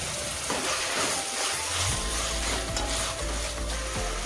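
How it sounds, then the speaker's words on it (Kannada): Carrot and cabbage sizzle and crackle in a hot pan, a steady close frying hiss with occasional stirring scrapes and no voices. "ಇದನ್ನ ಈಗ ಚೆನ್ನಾಗಿ ಫ್ರೈ ಮಾಡ್ಕೊತೀನಿ"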